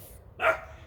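One brief, bright yap from a young puppy a little way off rises sharply and trails away, standing alone against a quiet, low-pitched room tone.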